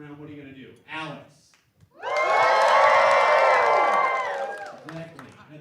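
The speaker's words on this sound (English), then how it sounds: "A big cheer will definitely eliminate that person" A crowd at a hosted elimination-round game erupts into loud, sustained cheering and whooping after a brief spoken question, holding for several seconds before fading.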